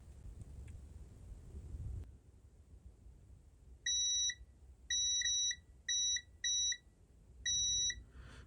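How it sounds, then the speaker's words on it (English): A multimeter in continuity mode sounds five sharp electronic beeps of uneven length in a quiet room, each a steady high tone that cuts off cleanly, after a short rustle of handling. "Okay, multimeter in continuity mode."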